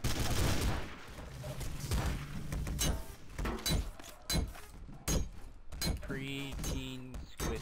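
Repeated gunshots from a newly picked-up gun in Garry's Mod Zombie Survival, a string of sharp game shots mixed with other in-game noise and a tone near the end, with voices talking over parts of it.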